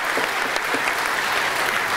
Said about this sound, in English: they deserve a round of applause for the work that they've put in over the years